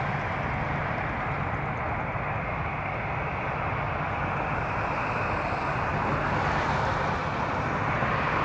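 A jet airliner rumbles at Toronto Pearson airport, a broad, steady roar held at an even loudness throughout.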